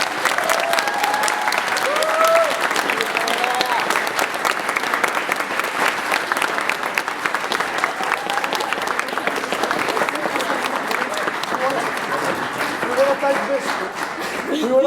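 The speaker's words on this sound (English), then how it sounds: "could Mr. Nobbs please come down for a round of applause" A school theatre audience gives a long round of applause after a performance of A Midsummer Night's Dream. The dense clapping runs for about fifteen seconds, with voices and light laughter mixed in among the crowd.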